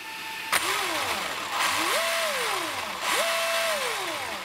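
An electric motor in a Traxxas X-Maxx RC car on 8S batteries with a ZTW Beast Pro 200A ESC, throttled in three repeated whining rises and falls after a sharp click, close and fairly loud with no talk.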